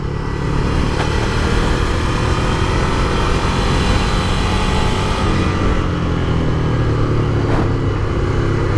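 A 2017 Ducati Scrambler Desert Sled, an 803 cc L-twin, rumbles steadily through a corner under loud, constant engine noise and wind buffeting, with no clear revving peaks.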